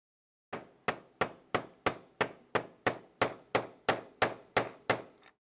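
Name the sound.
tapping model kit part in with screwdriver handle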